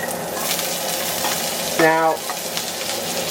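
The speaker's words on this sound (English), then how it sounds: "we're going to fry those in the bacon fat" Sliced jalapeños fry in bacon fat, giving a loud, continuous sizzle close by, briefly broken by a short spoken word.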